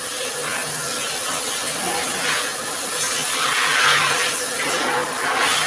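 A shower sprays water onto an air conditioner filter, giving a steady broad hiss that swells and fades in waves as the spray moves across it.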